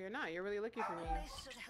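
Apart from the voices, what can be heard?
dog barking and whimpering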